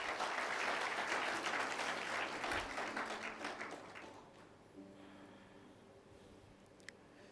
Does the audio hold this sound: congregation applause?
yes